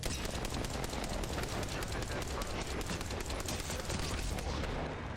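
Rapid automatic gunfire from an Apex Legends firefight fills the whole stretch, with dense, sustained bursts of shots running loud and close throughout and a faint voice buried underneath.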